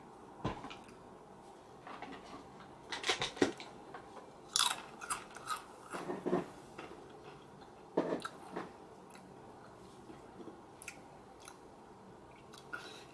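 Cheddar-flavored Pringles chips crunch and get chewed close to the mic, in scattered crisp bites and softer chewing between them, with no talking over the sound.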